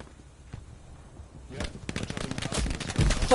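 Machine gun fire in Hell Let Loose, starting quiet and distant then building into loud rapid bursts of automatic shots in the second half, with faint voices underneath.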